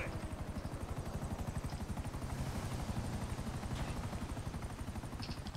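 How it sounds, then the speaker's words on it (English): Rapid, steady rotor chopping of a helicopter in Grand Theft Auto continues throughout, fairly faint and even, with a few light clicks and knocks on top. "Get out of here, helicopter. Nobody wants you here."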